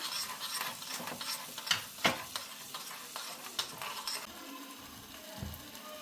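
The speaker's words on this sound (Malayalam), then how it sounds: "ഇനി നമുക്ക് നന്നായി ഇളക്കി കൊടുക്കാം." Pizza topping stirred in a hot pan on the stove, with steady sizzling and repeated scraping strokes of a spoon, plus a few sharper knocks against the pan.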